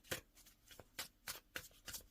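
A deck of tarot cards shuffled by hand, several quick riffling bursts in an uneven rhythm, soft and close with no talk.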